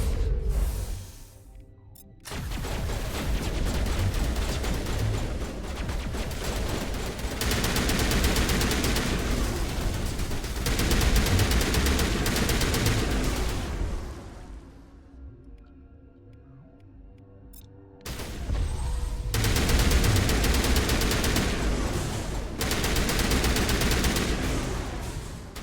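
Rapid automatic gunfire rattles through a lab firefight in the Mass Effect 1 video game, loud sustained bursts broken by a couple of short pauses, then resuming at full intensity.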